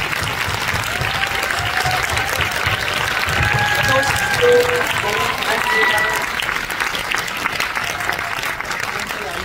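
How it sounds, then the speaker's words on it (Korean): Festival audience clapping to welcome the director and actors to the front for a post-screening Korean film talk, a lively, sustained round of applause with a host speaking over it and brief whistle-like tones mixed in. "네, 훌륭의 박수를 부탁드리겠습니다"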